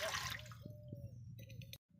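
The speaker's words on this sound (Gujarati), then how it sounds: "આપણે 1 કળશો ભરીને નાખશું પાણી" Water from a full jug pours into a pot of spiced dhokli vegetable curry with a continuous splashing gurgle, close and fairly quiet, ending abruptly in silence.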